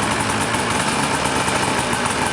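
A snowmobile engine idles after a choke-assisted start, giving a steady, loud mechanical drone with constant vibration and no pauses or talk.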